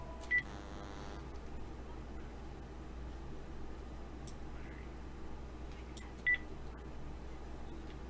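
Faint, steady telephone dialing tones entering a caller's phone number, with two brief sharper beeps near the start and again later over a low hiss.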